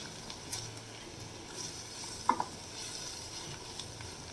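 Butter garlic mushrooms with oregano being stirred in a pan, a soft continuous scrape and sizzle with one brief sharper clink of the utensil, quiet and close, no talking.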